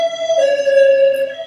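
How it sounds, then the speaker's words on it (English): An ambulance siren sounds steadily nearby with a sustained wailing tone, passing by loud and clear outdoors with no talk. "Ambulance goes by, so blessings to whomever it is that has inspired that siren"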